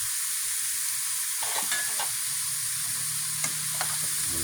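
Pork lung and heart sizzle steadily in a pan for a Bicolano-style kandingga, a constant bright frying hiss broken by a few light scrapes and taps of a stirring utensil.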